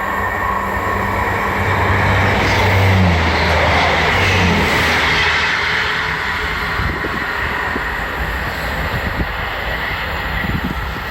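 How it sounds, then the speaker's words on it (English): A train pulls into Edale station with a heavy rumble and a rising mechanical whine. It stays loud and close, then eases off slightly as it slows near the platform. "this looks like me train now"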